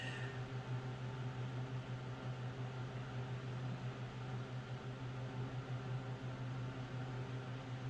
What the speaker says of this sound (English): And yes, you can hear a fan on behind me